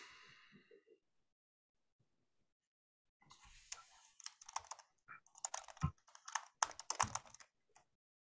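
Typing on a computer keyboard during an online working-group meeting, with rapid uneven bursts of clacking keys close to the microphone after a few seconds of near silence.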